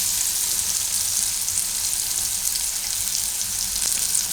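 Banana pieces for a cashew-banana curry fry in a pan over low gas, a steady bright sizzle with faint stirring scrapes, close and continuous with no talking.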